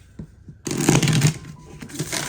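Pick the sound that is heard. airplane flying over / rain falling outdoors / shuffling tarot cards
shuffling tarot cards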